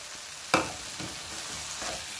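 Cooked rice is stirred into a sizzling non-stick pan, a steady frying hiss close by, broken by a sharp scrape as the rice goes in and softer stirring strokes after.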